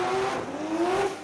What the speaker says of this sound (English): they just light it up with a bit of nitrous.